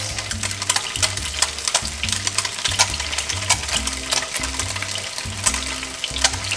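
Tofu pieces frying in a hot pan for a stir fry make a loud, close, continuous sizzle, dense crackling with small bursts and pops throughout and no voices.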